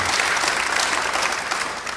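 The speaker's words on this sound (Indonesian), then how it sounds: "Beri tepuk tangan yang baik buat dia." A church congregation applauds steadily during a service, with dense, loud, sustained clapping from many hands and no voices rising above it.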